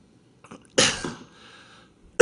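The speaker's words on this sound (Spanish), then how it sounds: "Les aseguro que se pasa muy mal tosiendo aquí." A person gives a sharp cough, then a short dying rasp, with a few faint breaths before it and another abrupt cough at the end, close and alone in a quiet room.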